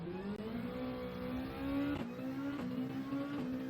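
In Gran Turismo 7, a race car on a hot lap at Asia Circuits holds a steady engine drone, with gear changes and small shifts in pitch during braking and acceleration, continuous and fairly close.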